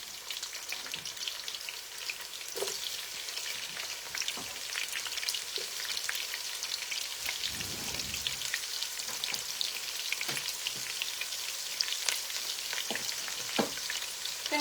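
Onions frying in hot oil for rice, a dense, even crackling sizzle that runs steadily throughout with a brief lower bubbling surge in the middle, close and unaccompanied by speech.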